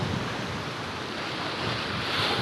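Ocean waves breaking on the shore at Krui, Pesisir Barat, Lampung, heard as a loud, steady rush of surf mixed with wind buffeting the microphone, with no voices.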